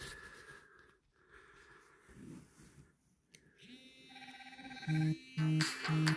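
A smartphone rings during a test call to check that call notifications reach a paired smartwatch, with a bright ringtone repeating in short, evenly spaced bursts after a stretch of quiet room noise.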